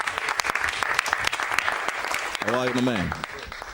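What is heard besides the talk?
audience applause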